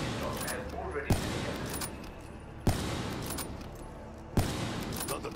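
Sniper rifle firing at zombies in Call of Duty Black Ops III, three sharp, loud single shots spaced about 1.5 seconds apart over busy game noise, with someone talking underneath.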